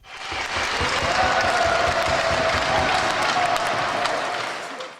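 A crowd of hockey fans applauds the winning team, Olimpiia of Kalush, at a regional championship final in Ivano-Frankivsk oblast. Dense, steady clapping and cheering rises, holds for several seconds and tapers off, loud and reverberant as if in an arena.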